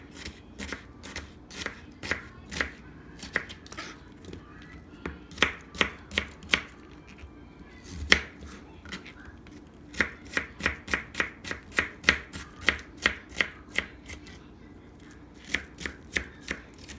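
Knife chopping an onion on a cutting board, a long series of crisp, close taps in uneven bursts, sometimes quick and clustered, sometimes spaced, with no talking over them.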